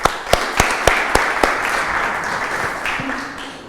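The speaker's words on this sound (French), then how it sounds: "Je vous demande d'accueillir Brigitte Courgeon sous vos applaudissements" Audience applause welcoming a guest named Brigitte Courgeon at a French event, opening with several sharp distinct claps and then settling into a steady, moderately loud wash of clapping.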